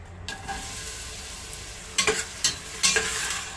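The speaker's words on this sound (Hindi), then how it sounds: "अंदर ये अनियंस ये ऐड कर दूंगी" Onions frying in hot oil in a pot while chicken mandi rice is prepared, a steady close sizzle with a few louder stirring scrapes near the end; no speech.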